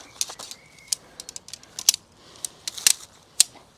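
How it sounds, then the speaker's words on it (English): Metal tent poles click and snap together in a scattered series of sharp, close, light clacks and jangles while a tent goes up at a camp. "Whoa, it's all just clicking into place."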